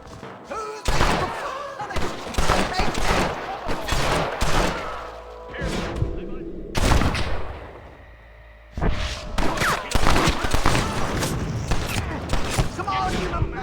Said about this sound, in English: Why are you still shooting at me?